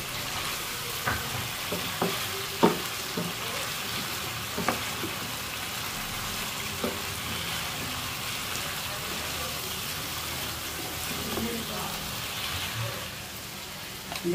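Peanut roast masala frying in a pan, a continuous loud sizzle with occasional scraping clinks of a spoon stirring, a voice speaking faintly underneath.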